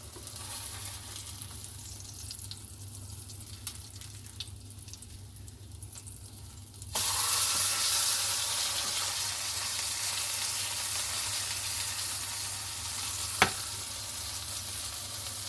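Ghost pepper burger patty frying in a pan just after being flipped, a steady broadband sizzle that jumps louder partway through and stays loud, with one brief sharp tick near the end and no talking.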